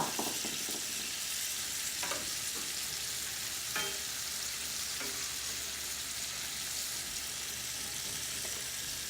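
Onions sizzle steadily in a hot pan, a close, continuous hiss with a few soft stirring scrapes along the way.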